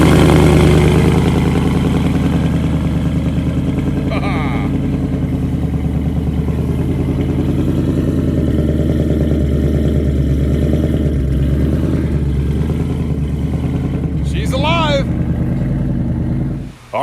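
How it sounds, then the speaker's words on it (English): A Ford Mustang fitted with a Hellion twin turbo kit fires up and settles into a loud, steady, lumpy idle that rumbles close and unbroken for the whole stretch, with brief higher whines near the end. "I'll go ahead and start the car for you, let you take a real quick listen to this monster"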